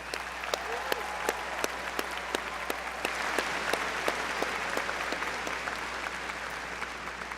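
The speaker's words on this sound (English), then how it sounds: "Please join me in extending another round of applause for our doctoral graduates." An audience at a summer graduation ceremony applauds doctoral graduates, steady crowd clapping with distinct sharper claps standing out at a regular pace throughout, over a low hum.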